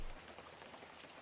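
Soft, steady rain patters in the fishing game Webfishing, a dense, even hiss of falling drops heard faintly and alone for a moment.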